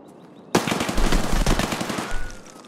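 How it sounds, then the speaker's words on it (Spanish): Heavy automatic gunfire erupts from silence in a shooter video game, loud, dense rapid bursts that continue steadily for about two seconds before easing off, with no talking over it. "Están cagando tiros."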